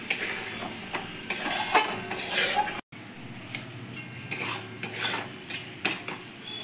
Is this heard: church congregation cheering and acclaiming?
no